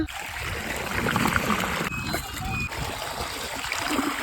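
Irrigation water for a wheat field flows steadily along a farm channel, a continuous rushing, splashing stream close by, with faint talk mixed in.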